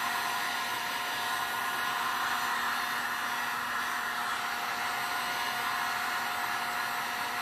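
Heat gun blowing hot air over sticky leftover epoxy resin for resin art, a steady loud broadband whoosh that runs unbroken and alone throughout.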